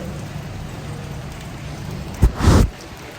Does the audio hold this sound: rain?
yes